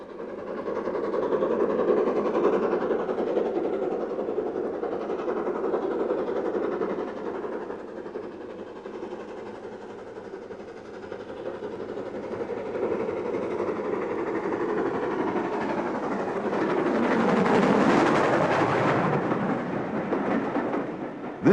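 British Railways Standard Class 4 steam locomotive 76031 on the East Lancashire Railway makes a steady rolling rumble, loud throughout and swelling to a close, roaring peak near the end as it passes.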